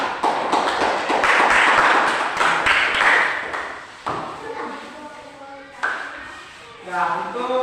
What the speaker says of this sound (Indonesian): beri tepuk tangan kepada kelompok 3